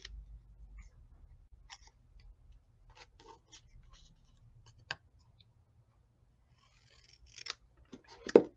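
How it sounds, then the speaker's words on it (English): Scissors snip small 7/8-inch paper squares diagonally for a handmade Christmas card, giving a few quiet, close, sparse crisp clicks and snips spread across an otherwise silent stretch. "And I just cut them diagonally."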